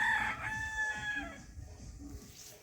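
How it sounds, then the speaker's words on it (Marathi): Rooster crowing loudly at the start on a country poultry farm, followed by scattered clucking from hens in the background, no talking. "हे पाठीमागे जे कोंबडी दिसतात"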